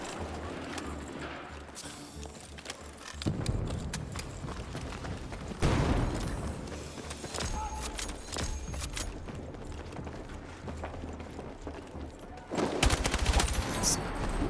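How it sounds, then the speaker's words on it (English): Battlefield 6 gunfire rattles down a hallway in long, close automatic bursts, with several louder volleys cutting in over a continuous clatter of shots. "I love just firing down a hallway."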